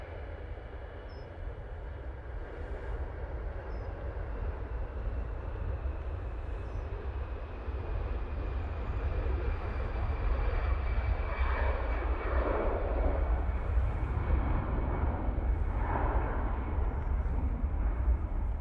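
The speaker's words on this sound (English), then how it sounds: "Easyjet now on the roll" An easyJet airliner accelerates on its takeoff roll at Manchester Airport, a continuous, steady jet engine roar heard from a distance that swells slightly partway through.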